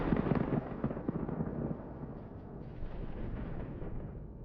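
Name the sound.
tank heat traps igniting and exploding after a drone attack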